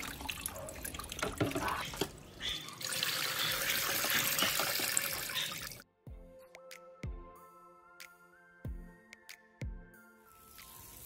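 Water pours and trickles from an orchid pot in a semi-hydro self-watering setup down into a bucket, a busy splashing flow at first. Once the pour stops, quiet separate drips fall at irregular intervals.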